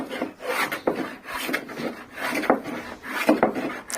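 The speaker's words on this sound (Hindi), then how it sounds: "ये हमारे रमदा चल रहा है" Hand plane (randa) shaving a wooden door panel in repeated rasping strokes, roughly four passes with brief pauses between, close and fairly loud with no talking.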